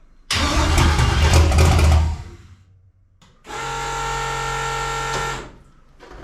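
A 1000+ horsepower car engine cranks and roars to life on its first start for a couple of seconds, cuts out, then a steady, tonal mechanical drone follows before fading.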